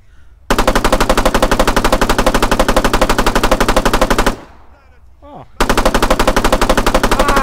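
Spar 16 5.56mm rifle fired in Arma 3, sustained rapid automatic bursts, loud and close, with a brief pause and faint rustle before firing resumes.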